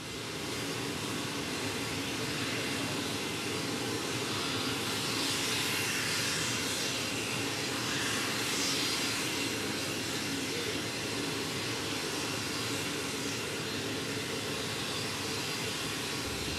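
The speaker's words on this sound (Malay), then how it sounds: "Kedatangan pesawat jenis Boeing C-17A Globemaster III ini" A Boeing C-17A Globemaster III arriving at Sultan Iskandar Muda International Airport in Aceh, its jet engines producing a loud, steady broadband roar that swells gently midway and holds throughout.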